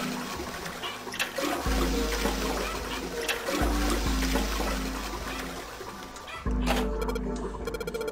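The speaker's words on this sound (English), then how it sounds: "I heard a loud flushing noise." A toilet flushes loudly in the puzzle game 999, a sustained rushing, gurgling torrent of water that runs for several seconds, then drops away as a brief game sound chimes near the end.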